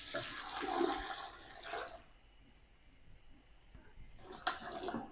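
Hot honey marinade is poured over peppers in a pot on the stove, a sloshing splash that fades to quiet, then a brief second splash near the end, with no voices.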